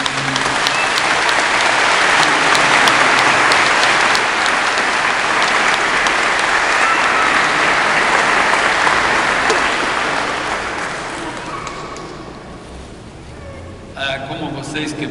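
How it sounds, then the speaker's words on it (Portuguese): An audience breaks into a long, loud round of applause, a dense, steady wall of clapping that carries on for about twelve seconds before easing off, with a voice and scattered sounds coming in at the end. "Uma salva de palmas."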